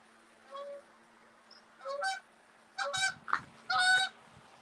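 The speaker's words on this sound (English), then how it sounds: "That was a direct overhead Canadian goose." A Canada goose flying overhead gives a series of about five loud, nasal honks, rising in strength as it passes close above, with a faint low hum in the background.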